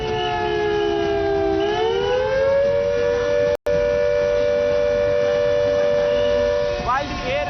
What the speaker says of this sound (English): Siren is going on